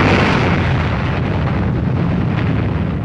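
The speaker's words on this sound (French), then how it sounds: "This was the fiery birth of the atomic bomb" Atomic bomb explosion from archival footage, a loud, sustained rumbling roar of the blast that fills the whole clip without a break.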